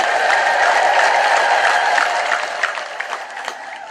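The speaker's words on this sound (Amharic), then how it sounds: "እልል ብላችሁ አመስግኑልኝ" Congregation at an Ethiopian Orthodox monastery service erupts in sustained praise, a dense wash of crowd voices with high trilling ululation and scattered clapping, loud and steady before tapering slightly near the end.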